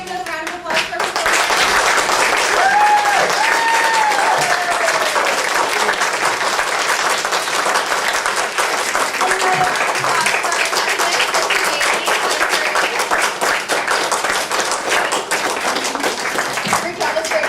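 An audience at a spring musical theatre showcase breaks into loud, sustained applause that fills the room, with some cheering and a few voices rising over the clapping.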